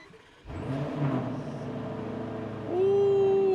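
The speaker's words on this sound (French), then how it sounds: "Fait que là, on va faire le petit cold start." A Lamborghini Urus SUV engine cold-starts with a window lowered. After a brief quiet moment it catches into a deep, steady idle rumble, then swells near the end into a louder, higher sustained rev.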